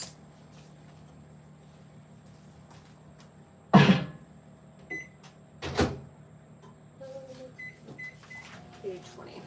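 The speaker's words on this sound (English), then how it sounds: "So I want to try another 20 to 30 seconds, I think, in the microwave" A microwave oven heating a brownie cookie mixture with sweetened condensed milk: a faint low hum, then two sharp thumps of the door and a short run of electronic beeps in a quiet kitchen.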